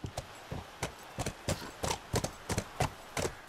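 Horse hooves clip-clop at a walking pace in The Last of Us, a dozen crisp, close strikes in uneven pairs over a quiet background.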